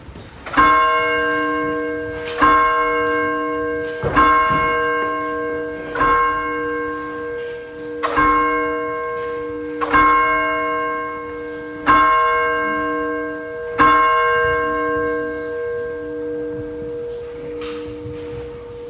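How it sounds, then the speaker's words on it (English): Church bell struck repeatedly in a slow, even rhythm, roughly every two seconds, each ring loud and resonant, then tapering into a long humming decay that thins toward the end. "we're going to just sit and see how long we can focus on that ringing bell as it fades to nothing"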